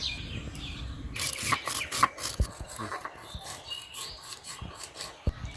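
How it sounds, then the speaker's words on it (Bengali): Cumin and garam masala are ground together on a stone in a village kitchen, with uneven rubbing and rasping strokes broken by sharp knocks, close by, while faint birds chirp in the background. "আমি জিরা আর গরম মশলাটা একসাথে বেটে নেব"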